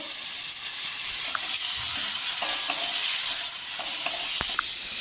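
Carrots and potatoes frying in a pan for chow mein, with a constant close hiss and sizzle and a few light clicks of stirring against the pan, no talking.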